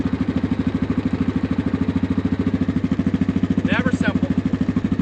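A tractor engine idles close by with a fast, even chugging pulse that holds steady throughout while it backs up, and a voice speaks briefly over it near the end.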